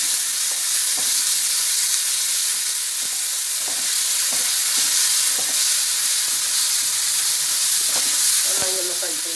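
Ginger garlic paste fries in a hot pan with a loud, steady sizzle that lasts throughout, broken by occasional soft clinks of stirring.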